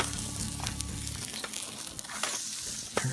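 A steak seared directly on hot coals crackles and sizzles steadily after being flipped, a dense close hiss with scattered sharp pops and no talking.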